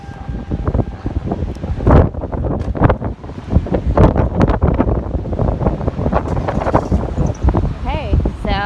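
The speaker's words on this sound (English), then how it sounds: "I'm seeing that it's pretty windy. My car's rocking." Strong gusty wind buffets the microphone in an ocean-side parking lot, roaring loud and uneven throughout, with a person speaking briefly partway through.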